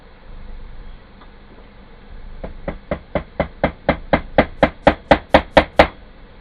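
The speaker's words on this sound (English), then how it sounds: "If you try and hammer through leather, it kind of resists a bit, especially with a small nail." A series of sharp, evenly spaced hammer taps driving a small nail through leather, about fifteen blows, growing louder and quicker as they go, close by with no talking.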